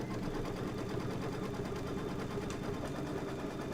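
A sewing machine stitches quilt fabric in a steady, unbroken mechanical whir, moderately loud and close, with no speech.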